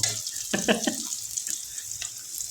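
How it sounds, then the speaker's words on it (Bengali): Oil sizzling in a pan as chili, spices, onion and garlic are sautéed for bhuna khichuri, a steady hiss broken by a few louder spatters and stirring knocks near the start. "প্রথমে আমরা তেল, মরিচ, মশলা, পেঁয়াজ, রসুন এগুলো আগে কষা নেব।"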